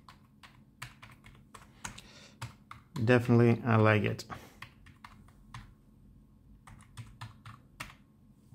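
Quick, steady typing on a Silvercrest wireless keyboard: close, light key clicks run throughout, with a short stretch of speech over them partway through.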